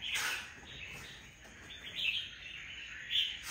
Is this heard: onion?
no